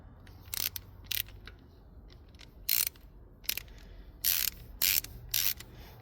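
A Sav-A-Thread insert is turned into a stripped cylinder head with a hand ratchet, producing irregular clusters of sharp close clicks separated by brief pauses in a quiet room.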